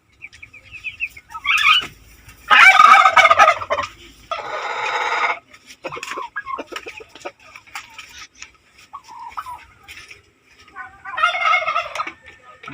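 Turkeys gobble in a breeding pen, several loud rattling bursts spaced apart with softer clucks and rustling between them.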